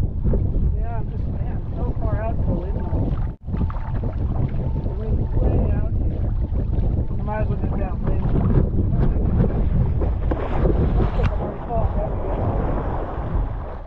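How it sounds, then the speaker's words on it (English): Strong wind roars across the microphone while wingfoiling half a mile offshore on open ocean, a constant close buffeting rush with water noise, and someone talks through it. "The wind's way out here."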